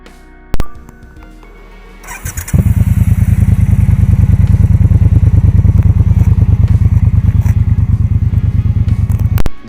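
A Triumph Bonneville Bobber motorcycle fires up with a sharp thump, then a loud, steady rumbling exhaust drones close by as it rides on, ending with a clunk.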